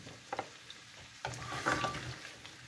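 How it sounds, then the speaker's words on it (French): Sliced onions being stirred through oil and fat in a pan for an onion tart, a few soft scrapes and gentle sizzle bursts, close and fairly quiet. "Et je vais mélanger un petit peu de façon à ce que les oignons prennent bien toute l'huile, toute la graisse."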